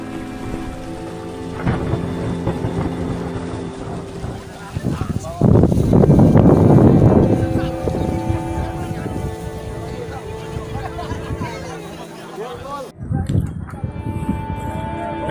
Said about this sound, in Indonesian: Angin bertiup kencang, hujan badai kadang deras, kadang reda, terus hujan lebat lagi.